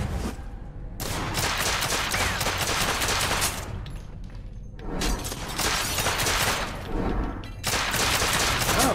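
Gunfire empties a magazine in the video game The Order 1886: three loud bursts of rapid automatic shots, separated by short pauses.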